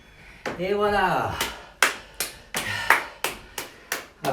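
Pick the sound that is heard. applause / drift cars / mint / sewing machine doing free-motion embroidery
applause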